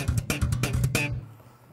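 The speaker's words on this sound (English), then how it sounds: "in this lesson we're going to look at machine gun triplets" Slap bass playing a quick burst of machine-gun triplets built from thumb slaps, fretting-hand slaps and popped notes, four sharp percussive attacks in about a second, then fading out with nothing else heard.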